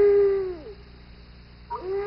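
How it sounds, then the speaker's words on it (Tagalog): Screech owl call: a loud, wavering whistled note that slides downward, then a pause and a second rising call near the end, heard alone against a quiet background. "Yun ang screech owl."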